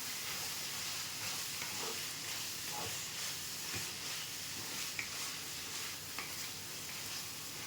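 Chicken pieces fry with pepper powder in a hot pan, a steady broadband sizzle with faint stirring scrapes and occasional small pops, close and continuous with no voices.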